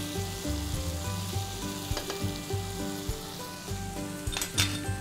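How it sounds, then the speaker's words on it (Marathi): Onion, tomato, turmeric, asafoetida, garlic and spices sizzle loudly in hot oil, a close, constant crackle with a few sharp spatters and faint clinks of a pan. "तेल गरम केलंय, त्याच्यावर आपण हळद, हिंग, कांदा, टोमॅटो, लसूण आणि कोथिंबीर आणि मसालाही घातलेला आहे"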